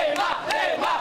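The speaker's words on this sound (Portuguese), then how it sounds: "Na porta do hotel em que a delegação está hospedada, a torcida só gritava por um nome." Football fans crowd outside the team hotel, chanting a player's name in loud, rising and falling shouts that swell in waves over about a second.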